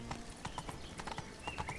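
Roach, Geralt's horse in the video game The Witcher 3, gallops with steady rhythmic hoof clip-clops at close range, accompanied by faint game music and ambient sound.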